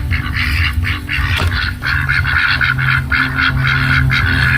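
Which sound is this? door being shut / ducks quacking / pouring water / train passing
ducks quacking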